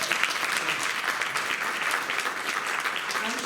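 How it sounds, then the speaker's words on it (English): A room full of people at an evening candidates' forum applauds, a continuous, fairly loud patter of many hands clapping with no clear gaps throughout. "You want to give them a little round of applause?"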